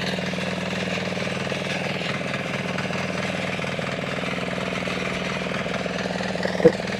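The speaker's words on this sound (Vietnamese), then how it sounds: "Vậy có vẻ như là tiếng máy cày sẽ hơi ổn một chút cô bác ạ." A tractor engine runs steadily nearby, a constant chugging drone with one brief knock near the end and no voices.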